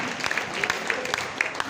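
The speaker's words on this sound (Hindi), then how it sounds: "ताली जोरदार वाली बजाइए" Audience applause at a motivational product seminar in India, a dense patter of many hands clapping steadily for under two seconds at moderate distance, with faint voices underneath.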